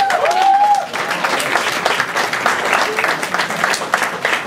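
Warm applause fills a banquet room at a heart transplant support dinner, many hands clapping steadily and fairly loud, with a brief whistle-like tone at the start and faint voices mixed in.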